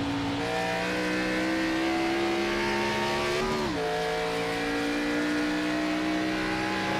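An iRacing race car at WWT Raceway downshifts under heavy braking into turn one: a loud, steady engine drone that drops sharply in pitch midway, then carries on alone.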